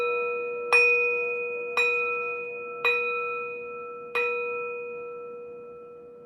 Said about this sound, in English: I'm going to ring my bell anyway